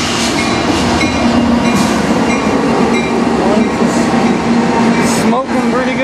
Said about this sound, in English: we got the train coming through the snowstorm here